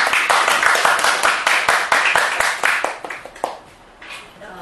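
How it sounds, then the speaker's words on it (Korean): An audience at a book launch lecture applauds the author, a dense run of many hands clapping that stays loud for most of the stretch and then thins out toward the end. "아침부터 일찍 일어나서 나오신 저자님께 박수로 부탁을 드리겠습니다."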